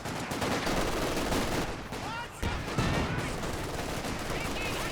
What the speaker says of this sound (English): Infantry sections firing at him.